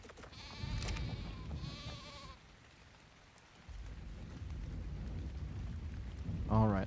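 Sheep bleats from the video game ARK Survival Ascended, a few wavering harmonic calls early on, then a steady rain-like ambient wash with a brief louder burst near the end.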